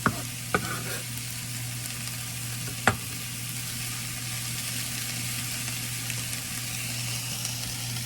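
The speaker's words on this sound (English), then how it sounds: "Do you hear that sizzle?" Zucchini and asparagus sizzle steadily in a frying pan for a breakfast dish, a constant frying hiss with a low hum underneath and a few sharp clicks of stirring near the start.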